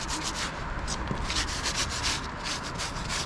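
Sandpaper rubs steadily back and forth over a surface, scraping off old peeling paint ahead of repainting, a continuous close, even abrasive hiss with no speech.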